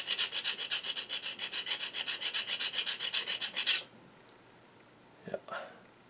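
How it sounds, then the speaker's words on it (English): A file drawn across a barrel trimmer to sharpen it, rapid rhythmic rasping strokes, close and loud, for several seconds before stopping, followed by a couple of faint knocks. "That way you can see where you're filing off."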